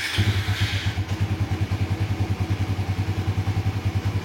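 A motorcycle fitted with an Aracer RC ECU runs just after starting, with a loud, close, even throbbing idle and a rapid pulsing beat throughout.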